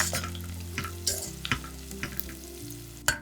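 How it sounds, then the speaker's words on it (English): Onion fries in oil with whole spices, ginger and garlic, sizzling quietly up close. Several sharp clicks and taps from stirring come in an irregular rhythm over a faint steady hum, and no one speaks. "Now, add the onion and cook until it turns slightly golden."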